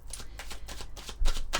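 Mirror oracle cards shuffled by hand in a rapid run of soft, even rustling strokes, close and continuous, with a low thump near the end.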